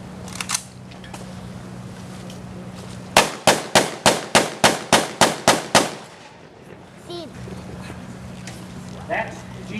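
A G43 rifle demonstrated at a WW2 reenactment on Veterans Day, nine or so sharp cracks fired in quick regular succession, loud and close, then crowd murmur returns.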